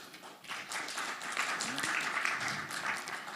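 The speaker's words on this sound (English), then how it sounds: "Please just a round of applause." Audience applause at an investor evening, a steady wash of clapping from a crowd that holds fairly even for a few seconds, with some voices mixed in.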